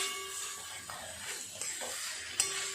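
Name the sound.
banana flower filling stirred and dried in a pan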